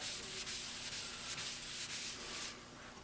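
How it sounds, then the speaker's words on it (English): A scratched wooden table top is sanded down by hand with quick, repeated rubbing strokes, a close, raspy scratching that fades slightly at the end. "that was to, sand it down, clean this all up."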